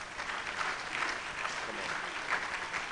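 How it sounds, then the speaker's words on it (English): An audience applauds steadily at the Ghana College of Physicians and Surgeons annual induction ceremony for the Division of Surgeons, a dense, continuous wash of clapping from a large room. "Let's give them a big hand."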